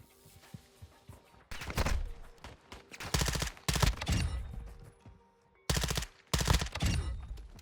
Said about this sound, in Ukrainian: Є постріли. Да, Але ці постріли ніби трошки далі.